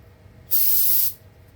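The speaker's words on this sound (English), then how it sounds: "a lot of times I'll just give that a quick rinse" A single short burst of rinse spray hisses steadily for about half a second over plastic parts being cleaned before degreasing and dyeing, close and fairly loud against a quiet background.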